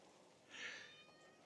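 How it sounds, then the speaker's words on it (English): A house cat gives one brief, faint meow that rises and falls over a quiet background hiss, with no talking. "This cat usually never talks, so I don't know what's with her."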